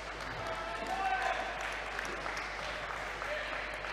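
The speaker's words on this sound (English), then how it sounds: "Give him a big round of applause" A crowd applauds a competitor at a ninja challenge league final, with steady, moderately distant clapping and cheering that mixes with an announcer's voice in a large echoing hall.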